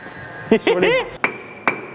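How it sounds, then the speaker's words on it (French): Sharp hammer blows on a building-site machine or fitting: a quick cluster of metallic strikes followed by two distinct ringing hits, close and clear, with a faint voice at the start. "Et là, 2 coups de marteau."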